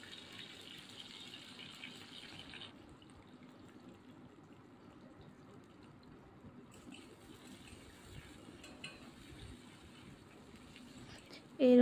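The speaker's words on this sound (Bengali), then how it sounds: "পেঁয়াজগুলো কিছু সময় ভেজে নেব।" Large-cut chopped onions fry in a pan with a steady, soft hiss that brightens after a short lull, ending in a brief loud clatter.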